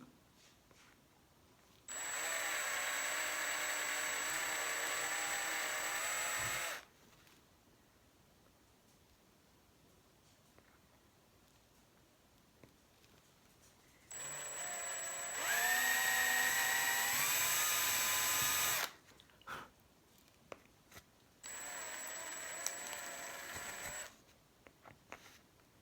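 A small power drill whines in three separate bursts while boring holes in a bottle gourd, close and fairly loud, with quiet gaps between runs and the pitch shifting as the bit bites.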